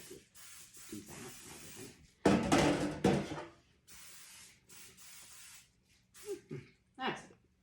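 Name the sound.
cooking oil spray on pan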